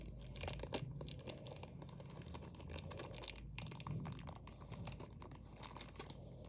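Plastic wrapping on a Roblox blind box being torn open by hand, a close, continuous crinkling and ripping with brief sharper rustles, no talking.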